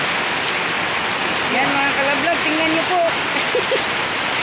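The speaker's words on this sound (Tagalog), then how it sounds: "Lakas ng ulan." Steady heavy rain from a typhoon roars as a dense wash of noise, with a voice speaking over it partway through.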